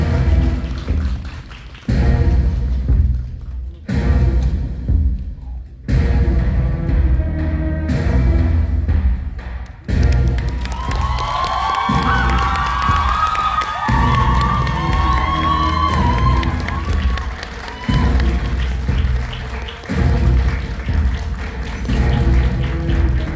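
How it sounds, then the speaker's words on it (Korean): A theater audience at a Netflix drama Q&A screening at CGV Yongsan I'Park Mall cheers and applauds as the director and actors come in. The crowd noise is loud and sustained, with music swelling in partway through. "큰 박수로 맞아주세요"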